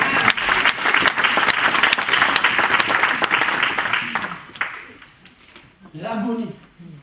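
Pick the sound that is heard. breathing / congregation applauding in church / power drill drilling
congregation applauding in church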